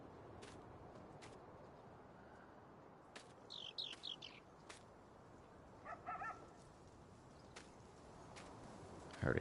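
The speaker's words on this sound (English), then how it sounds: "I heard a dog bark." A dog barks faintly in the distance in Farming Simulator 19, with a short cluster of high yips followed later by a few more quiet barks over a low ambient game background.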